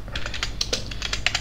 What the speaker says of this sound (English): you can type something like